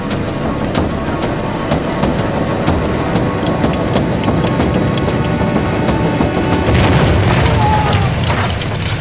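Explosive blast near a mine with propane tanks nearby, a loud sustained roaring rumble with crackling debris lasting several seconds, close and dense.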